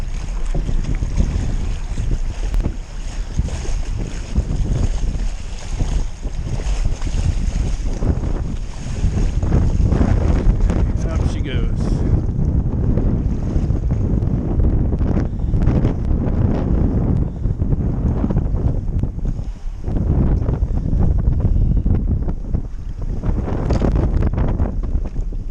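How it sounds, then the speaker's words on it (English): Gusty wind roars across the microphone while kitesurfing on a 12m Duotone Switchblade kite with a Spike board, a loud continuous rumble that swells and drops over the water with splashing beneath. "Very gusty. Winds in and out."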